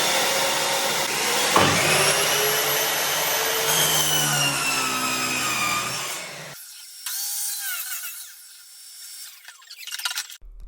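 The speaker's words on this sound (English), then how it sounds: "Using the hoover in the back of the miter saw was actually really, really good." A miter saw with a hoover vacuum attached at the back cuts engineered hardwood flooring: a loud, steady whine and rushing suction through a long cut, then a quieter vacuum hum with small clatters as the blade winds down.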